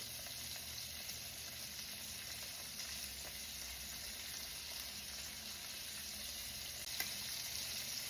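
Seasoned pork chops searing in a pan, a faint, even sizzle that holds steady throughout with a soft hiss and occasional light pops.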